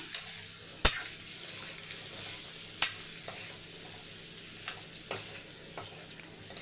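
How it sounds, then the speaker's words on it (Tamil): Food is stirred as it roasts in a pan, with a soft steady sizzle underneath and a few sharp clinks of the spoon against the pan at irregular intervals, with no talk. "இது ஒரு பக்கம் அப்படியே மிக்ஸ் பண்ணி விட்டால் ரோஸ்ட் ஆகிட்டே இருக்கும்"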